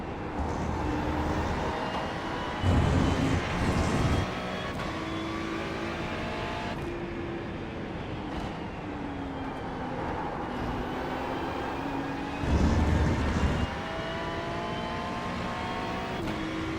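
A Ferrari race car engine in a racing game at Road America during a six-hour race, whining steadily with pitch climbing through gears, with occasional shifts and louder roaring surges from passing cars.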